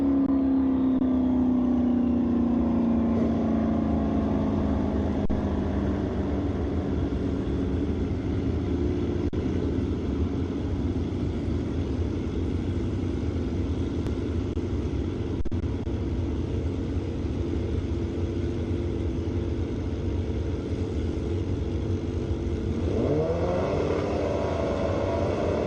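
A turbo Hayabusa drag racing machine roars down the strip at an ET finals event, its engine note climbing in pitch and holding as a long, steady, loud drone.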